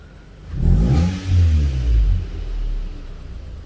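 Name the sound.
Toyota Camry 2.4 V custom exhaust revving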